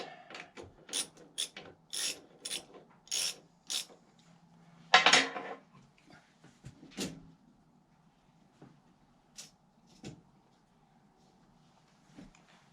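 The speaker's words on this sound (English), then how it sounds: "I just got to snug these bolts just a little bit" A ratchet snugs bolts while the bar and chain are tensioned during firewood work: a run of quick, fairly close ratcheting clicks in bursts, one louder clack, then a few sparse clicks with quiet gaps.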